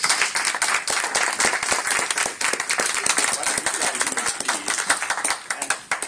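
A hall audience at a Journey Santa Fe gathering gives a round of applause for elected representatives; dense, sustained clapping runs steadily throughout, moderately loud and with no talk over it.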